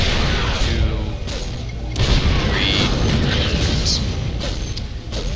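Siege tanks fire in StarCraft 2 on a prison breakout mission, producing heavy booming shots and explosions over constant loud battle noise, with several big impacts spaced a second or so apart.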